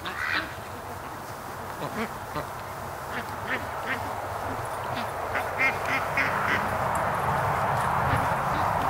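Ducks quack in scattered bursts around a duck pen during a morning rush with ducklings, the calls moderately close over a steady outdoor background hum.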